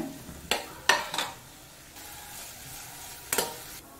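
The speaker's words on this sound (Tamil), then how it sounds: "வெங்காயத்தை நல்லா வதக்கிக்கோங்க" Onions and curry leaves sautéing in a pan, heard as a soft sizzle broken by a few sharp clinks and scrapes of a spoon against the pan.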